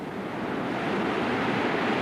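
A creek runs high and washed out, its water rushing in a broad, continuous roar that swells slightly louder toward the end, with no voices over it.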